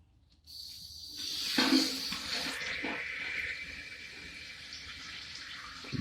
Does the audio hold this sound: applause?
no